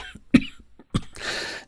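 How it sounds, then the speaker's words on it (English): A narrator reading an Edgar Allan Poe story performs a cough: two sharp, throaty barks close to the microphone, the second followed by a raspy breathy trailing sound, with no words spoken. "Your cough"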